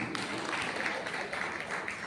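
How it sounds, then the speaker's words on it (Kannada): Applause from an audience at a retirement farewell function for a school official, a soft, steady patter of clapping heard at a distance with faint background voices mixed in. "ಚಪ್ಪಾಳೆ"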